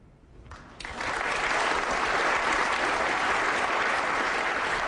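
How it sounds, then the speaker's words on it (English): Audience applause at a snooker match fills the hall, starting faint and swelling within the first second into a steady, dense, close roar of clapping that holds for several seconds. "applause from the audience"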